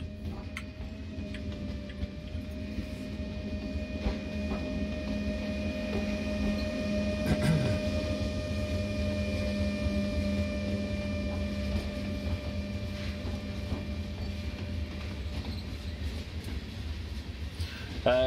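A BR 185.2 electric locomotive running in Train Sim World on the Ruhr-Sieg Nord line, a steady low hum and drone with faint ticking throughout, constant and fairly quiet under occasional talk.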